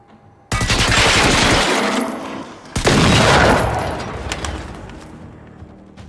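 Gunfire from the video game Generation Zero: two loud bursts of rapid automatic shots, the first lasting over two seconds and the second about a second and a half, each trailing off into a fading echo.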